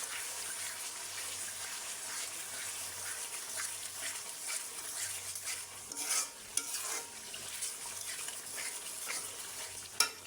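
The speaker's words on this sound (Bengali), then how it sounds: "তো এখানে কাঁচামরিচ আর ঘি দিয়ে দিচ্ছি আমি" Meat frying in a pan after ghee and green chillies go in, a steady soft sizzle with occasional stirring scrapes and a couple of sharper knocks near the end.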